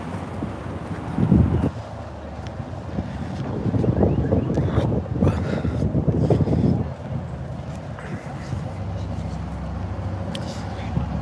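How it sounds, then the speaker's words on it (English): Gusty wind buffets the microphone outdoors along a seaside street in Cabo Roig, Spain, a steady low roar with stronger rushes throughout, while people talk over it. "Let's cross over here and get out the wind."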